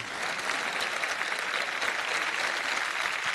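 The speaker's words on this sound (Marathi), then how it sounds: "एकदा महेशसाठी जोरदार टाळ्या झाल्या पाहिजेत." A television music contest audience applauds contestant Mahesh, a thick, even wash of many hands clapping, close and sustained at steady volume from start to finish with no talk over it.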